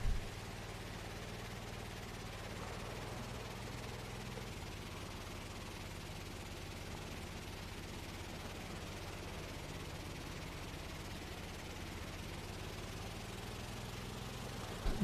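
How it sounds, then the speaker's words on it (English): The boat or train engine in a building game drones on for the whole stretch with a steady buzzing rattle, like a lawnmower engine. It stays at an even level with no voices. "This thing sounds like a lawnmower."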